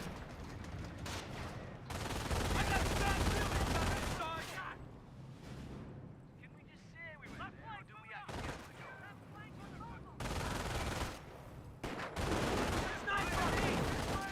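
Gunfire raking an infantry section in the Company of Heroes wartime strategy game, dense bursts of machine-gun and rifle shots in waves with booms mixed in, loud, with a voice speaking between and over the volleys.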